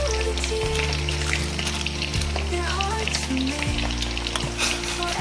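Loud, steady sizzling of chicken frying in hot oil, crackling continuously with occasional stirring, close up.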